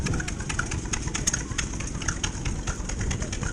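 Tractor engines idle at a wet, muddy Strumpshaw steam rally, a close, steady low chugging with irregular pulses and a few bird calls above it.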